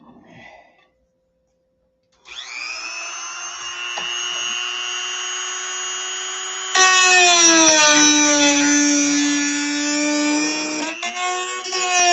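A power tool cutting into a car muffler, a steady loud whine with a strong ringing tone that deepens and roughens midway as the blade bites harder, running continuously for about ten seconds.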